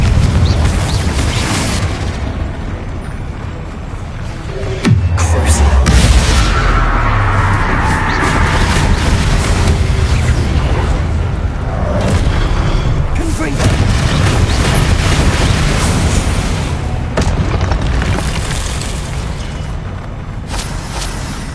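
Confringo fire spells exploding in the Hogwarts Legacy video game, heavy booming blasts layered over dense game music and effects, with a loud deep impact near the middle and continuous rumbling bursts throughout.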